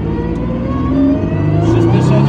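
A hypercar accelerating hard on the Nürburgring, its engine note climbing steadily in pitch and loudness from inside the cabin, a continuous strong drone with a voice speaking over it.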